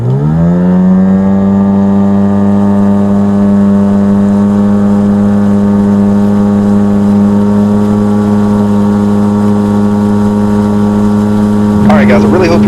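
A motorboat's outboard engine driving an aluminum propeller runs at full throttle, holding a loud, steady, close droning hum with a brief burst of added noise near the end.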